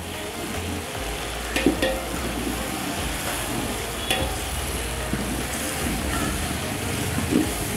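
Half a kilo of tomatoes fry in a pan for a biryani, a soft, steady sizzle with occasional scraping clicks of a spoon stirring, fairly quiet and without talk.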